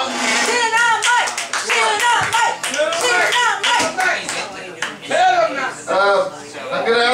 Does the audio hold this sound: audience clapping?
yes